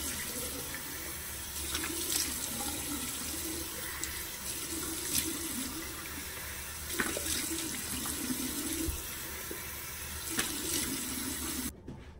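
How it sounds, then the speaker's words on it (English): A running bathroom sink tap pours water steadily while someone repeatedly splashes and rinses their face, with intermittent louder splashes over the constant flow and no talking. "I normally just like splash my face and rinse it"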